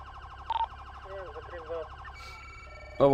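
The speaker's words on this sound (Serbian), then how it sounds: "Ajde čujet kako se čuju sad sirene" Custom modded police car sirens in a GTA roleplay game cycle through several wailing and yelping tones, with short electronic chirps and a sharp blast at the end, heard alone at moderate loudness.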